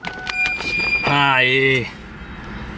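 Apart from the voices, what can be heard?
old Ford Mustang engine starting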